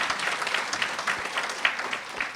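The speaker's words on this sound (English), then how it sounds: "A big clap to our Absa colleagues." Conference audience at the Absa Zambia Inspire Me event breaking into steady applause, a dense wash of many hands clapping evenly throughout without a pause.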